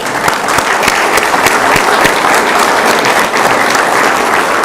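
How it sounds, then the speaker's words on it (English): A crowd at a city commission meeting claps loudly and steadily for a youth softball team, dense applause close by throughout with no talk over it. "Give them a round of applause."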